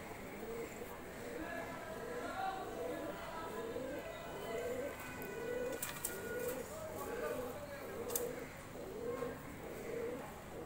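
Pigeons, including a Jacobin, coo in a small pigeon loft, a steady run of rhythmic, overlapping low coos close by, with a few faint clicks and rustles.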